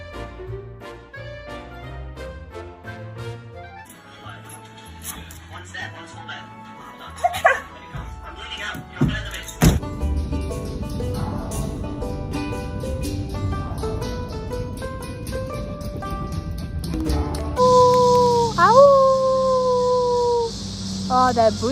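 A dog barks, yips and howls in loud bursts among funny animal moments, with people talking throughout and a sustained whine near the end.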